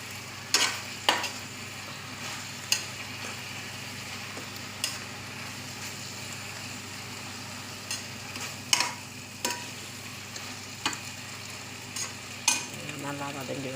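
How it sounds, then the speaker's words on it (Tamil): Ingredients for South Indian mushroom biryani sauté in a pan with a soft, continuous sizzle, broken by sharp, intermittent clacks and scrapes of a spoon stirring against the vessel. "நல்லா வதங்கி வரட்டும்."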